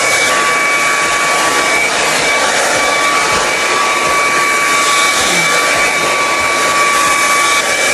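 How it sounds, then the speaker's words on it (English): A hair dryer blows steadily and loudly throughout while it smooths wavy sections of hair during curling, a constant broadband whoosh with a faint high whine and no talk. "I like to like hold the hair dryer to that hair, to that section, because it irons it out, smooths it out, basically."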